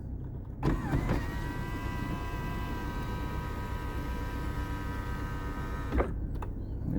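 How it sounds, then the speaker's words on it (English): The electric sunroof of a Toyota Hilux Surf SSR-X hums open in one steady motor whine lasting several seconds, starting and stopping with soft clunks, heard close inside the cabin with no talk. "It's got the moon roof, sunroof, whatever you call it. It opens all the way up."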